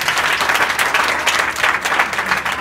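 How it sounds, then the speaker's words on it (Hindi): Audience applause at a community work review event in Jiyanpur, Azamgarh, with close, lively clapping that pulses steadily and loudly throughout, with no voices standing out. "एक जोड़ा ताली बजाइए"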